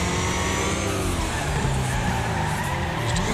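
A race car in the Wreckfest video game brakes and slides into a corner, its engine a constant loud drone with tire skid noise and shifting revs throughout.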